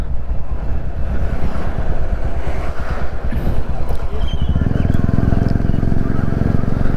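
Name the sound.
Royal Enfield Classic 350 motorcycle riding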